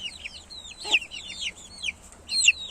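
Chickens and chicks mixed with young poussins peep in rapid, high chirps and give occasional louder clucks, close by and lively over a quiet background.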